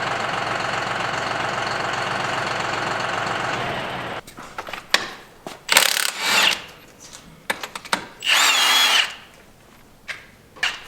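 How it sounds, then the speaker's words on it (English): A power tool on a tractor whines steadily for about four seconds, then breaks into short loud bursts of rattling impact hammering as wheel lug nuts are removed, with clanks and gaps between bursts. "we've got the front tires off the ground, and Jeff's taken off the lugs"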